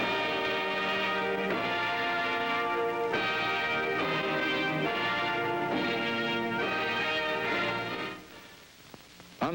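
RCA Victor orthophonic high-fidelity recorded music plays loud and full for several seconds in rhythmic orchestral bursts, then fades out abruptly near the end.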